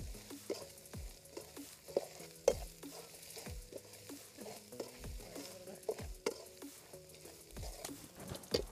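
Grated coconut mixture with a little salt sautéing in a pan for spicy Pallipalayam chicken, a low sizzle under repeated scraping stirs of a spoon, close and rhythmic throughout.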